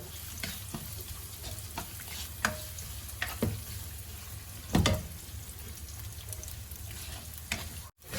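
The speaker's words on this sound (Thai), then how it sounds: "เอาหอมลงไป เจียวให้เหลืองหอมนะคะ" Shallots fry in oil with a soft, steady sizzle, punctuated by several clinks and scrapes of a utensil stirring in the pan, close and fairly quiet.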